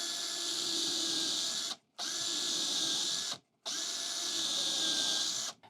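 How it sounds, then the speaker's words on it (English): A power drill bores holes through a drill guide jig clamped to the material, three loud whining bursts separated by brief pauses. "So let's drill some holes."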